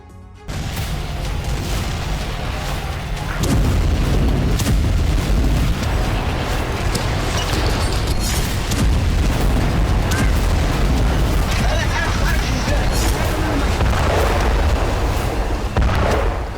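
Israeli airstrikes on Gaza and the West Bank, from late-night fighter jet attacks, heard as loud booming explosions that merge into a dense, continuous roar, with a voice faintly audible at times.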